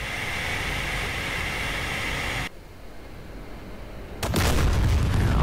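A bomb explodes in the DCS flight simulator game during an L-39ZA Albatross attack run, first a steady engine hiss, a sudden drop, then a loud broad explosive blast that lingers as rumbling noise, with no talk.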